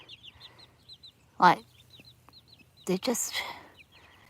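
Young chicks growing into chickens give soft, rapid clucks and peeps in a steady stream, close by, with someone speaking over them in bursts.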